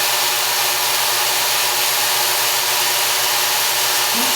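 A Work Sharp Ken Onion belt sharpener grinds continuously against a knife edge as the handle is raised, a loud, steady abrasive whir with no pauses.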